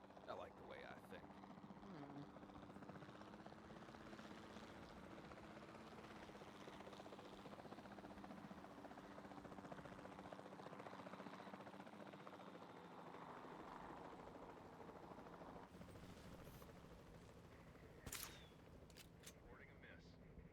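A capture team helicopter in Jurassic World Evolution 2 flies with a continuous, steady rotor drone throughout, with a few sharp clicks or shots near the end and faint voices underneath.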